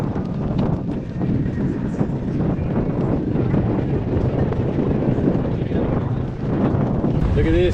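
Strong wind buffets the microphone in continuous low roaring gusts out on the water near a boat. The rumbling blasts drown out everything else.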